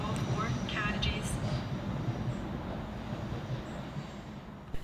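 A Scotrail train rumbles steadily through Pollokshields East station with a squeal of wheels, loud and close, while a station announcement voice sounds briefly near the start.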